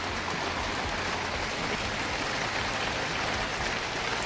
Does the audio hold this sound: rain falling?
yes